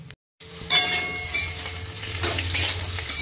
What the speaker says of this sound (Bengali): আলু ভাজতে বসিয়ে দিয়েছি